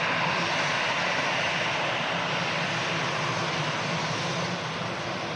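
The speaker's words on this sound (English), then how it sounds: "This very loud plane. Definitely louder than the one before." A loud plane at Manchester Airport roars continuously and close, a steady broadband engine rumble and hiss holding at full strength throughout with no talk over it.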